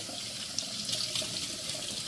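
A kitchen tap runs steadily into a sink while a leaf of greens is rinsed, a constant hissing splash of water with no speech.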